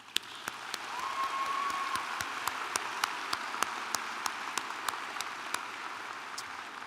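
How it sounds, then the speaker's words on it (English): A commencement crowd at an App State ceremony claps for the Chancellor in a broad, fairly soft, steady patter, with sharp isolated clicks standing out now and then across the whole span. "Please join me in a round of applause for our Chancellor"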